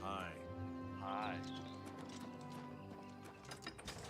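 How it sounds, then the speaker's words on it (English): Horse hooves clip-clop in the video game Oblivion, quiet knocks mixed with a whinny and game music, while voices talk over them. "now we have a horse"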